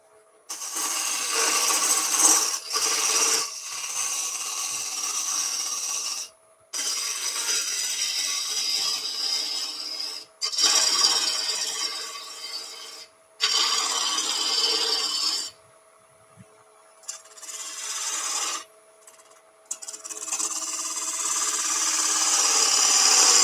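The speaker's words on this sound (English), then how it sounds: "right, small bowl gouge." A small bowl gouge cuts into a spinning ash wood bowl on a lathe, giving loud, bright rasping scrapes in repeated bursts of a few seconds each, separated by short silent pauses, close and without talk.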